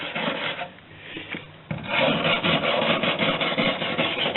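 A wire brush scrubs back and forth against a metal sliding-door channel in a raspy, rhythmic grind, pausing briefly before resuming harder and louder.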